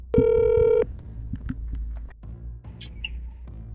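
An outgoing phone call rings out: one loud, steady electronic ringback tone lasting under a second, followed by faint, scattered background clicks and noise.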